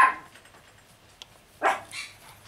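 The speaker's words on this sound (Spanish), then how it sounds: "Disculpen mi perrita." A small female dog barks indoors during a crochet tutorial, giving one brief yip followed by a couple of short, moderately loud barks that stand out against a quiet room.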